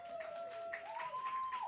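Audience clapping at a local quiz event with mayoral candidates, a soft, steady patter of applause under a sustained whistling tone.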